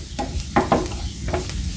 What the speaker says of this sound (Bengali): কিছু দেওয়ার পরে আমি 2-3 মিনিটের মতো ভেজে নেব।